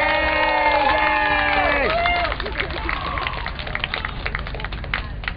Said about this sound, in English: Nice round of applause for Dave Lipp.